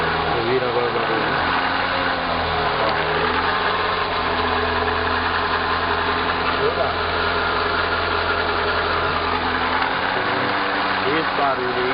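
A 2011 Renault Logan with a noise at the right wheel runs in fifth gear, a steady mid-pitched engine hum with a constant vibrating drone that continues unbroken throughout.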